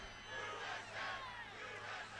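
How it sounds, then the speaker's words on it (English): Rally crowd chanting USA in rhythmic, swelling waves of massed voices, moderately distant and steady across the whole stretch. "And here comes the crowd chanting USA."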